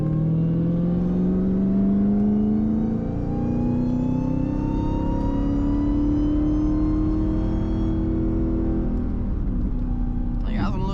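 A cammed Dodge Charger Hellcat engine pulls hard from inside the car, its loud droning tone climbing steadily in pitch through a long acceleration, then easing off near the end as a brief high whine appears.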